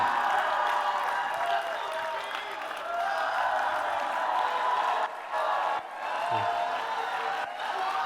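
A large audience cheers, claps and whoops continuously as people in a crowd are urged on during a group game, a dense sustained roar with brief dips.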